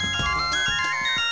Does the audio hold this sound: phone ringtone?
yes